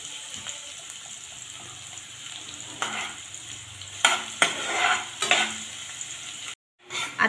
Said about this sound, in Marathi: कांदा आपल्याला छान तेलामध्ये परतून घ्यायचा आहे।